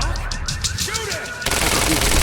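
Video game gunfire in Quantum Break: a loud, rapid automatic burst with sharp repeated cracks, then a dense roaring blast of sustained fire. Sci-fi whooshing and tonal effects sit underneath.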